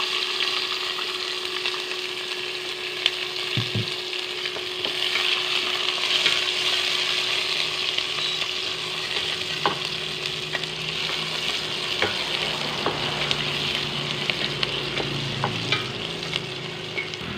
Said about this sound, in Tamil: எண்ணெய் வெந்தயத்தை நல்லா பொரிய விட்டுட்டு பொரிஞ்சோடனே வெங்காயம் போடணும்